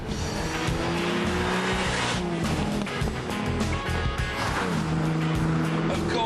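Ferrari Dino sports car with a 188-horsepower engine driving hard, engine roaring steadily throughout with tyre squeal and skidding, loud and close.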